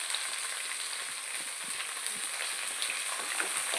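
Shallots and green chillies sautéing with curry leaves in a pan for a Kerala ulli theeyal, a steady close hiss of frying with faint scattered scraping and stirring clicks throughout.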